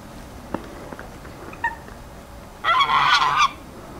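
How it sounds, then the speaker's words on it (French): Wild geese honk in a loud close burst of overlapping calls lasting under a second, after a few faint scattered bird notes, outdoors at a riverside bird area along the Rhine. "Alors là, il y a vraiment beaucoup d'oiseaux, des oies sauvages,"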